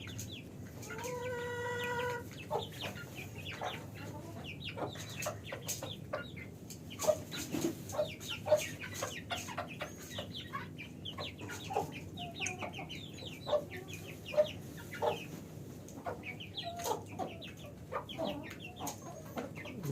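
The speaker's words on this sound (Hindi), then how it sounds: "ये गंजा मुर्गा है, 2 मुर्गे हैं इस वक्त" Several naked-neck chickens cluck and chatter close by, with short sharp calls scattered throughout and a brief crow-like call near the start.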